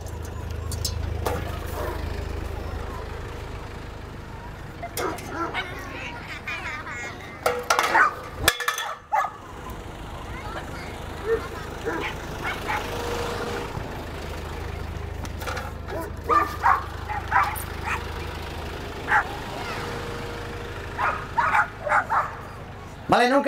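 Several dogs at a canine exhibition bark, yip and whimper in bursts, close and loud, while people talk nearly throughout.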